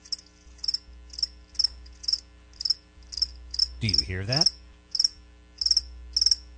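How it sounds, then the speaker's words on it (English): Crickets chirp in a steady, evenly spaced series of bright pulses as a comic sound effect in a radio ad, with a brief spoken line cutting in midway. "That's right, crickets."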